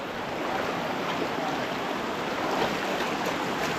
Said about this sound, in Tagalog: Ayan ang ulo ng baha, pare.